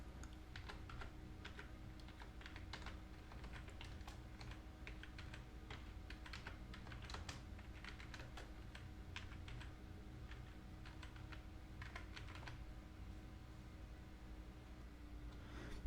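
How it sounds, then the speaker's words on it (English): Typing on a computer keyboard while adding a WordPress plugin, with quick irregular key clicks that run steadily and close up, with no talk. "Just type here."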